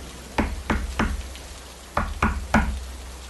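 Knocks land on a door in a hotel: two quick raps, a third a moment later, then a pause and three more, each sharp and close against a faint hiss of rain.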